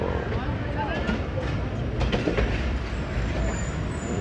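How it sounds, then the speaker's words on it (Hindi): The Hazara Express pulling away from Gujar Khan station in Pakistan, with a steady rumble of rolling carriages, some wheel clatter and occasional metallic squeaks, heard from inside with a voice speaking over it. "ट्रेन को रोका गया था फ़ौरन और फिर से डिपार्चर हो गया गुजर खान से"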